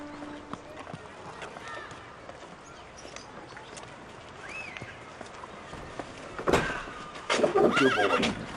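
A horse whinnies clearly mid-distance, followed by louder snorting and movement, with hooves and faint voices around it on an old school grounds.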